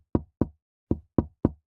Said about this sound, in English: I hear it, a soft, rhythmic tapping like fingers on glass.